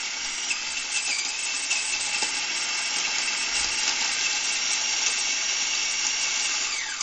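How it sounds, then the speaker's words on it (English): A block of cheese scraped steadily across a metal cheese rasp in a home kitchen while cooking tortillas with chicken, giving a loud continuous gritty hiss with no breaks and no talk. "So, cheese rasp."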